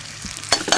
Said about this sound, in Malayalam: ഇടുക, ഇളക്കുക